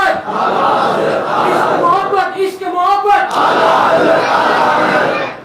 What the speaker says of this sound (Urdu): نعرے تکبیر, نعرے رسالت, نعرے تکبیر, نعرے رسالت.